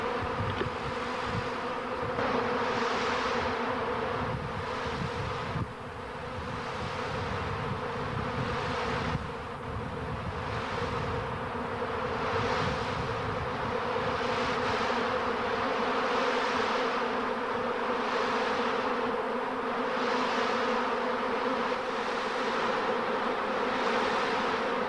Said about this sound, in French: un essaim vagabond prend possession d'une ruche vide